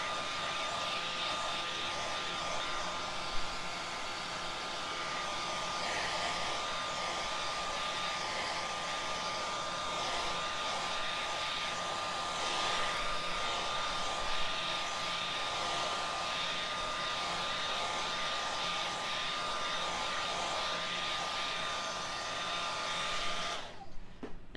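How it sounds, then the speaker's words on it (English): A blow dryer drying Waverly chalk paint runs as a steady, loud, close rushing whoosh for the whole stretch, alone with no talking, before cutting off abruptly at the end. "I'm going to use my blow dryer really quick, I need to get this dried quicker."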